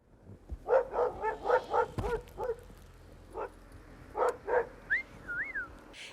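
Several sled dogs in an Alaskan village bark and yip in quick bursts, close by, with pauses between volleys and a few higher whines near the end.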